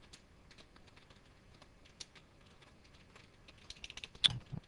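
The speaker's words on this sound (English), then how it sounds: "I can't type today." Quiet, irregular keystrokes clatter on a computer keyboard, sparse at first and then quickening into a denser burst with one sharp louder key press near the end.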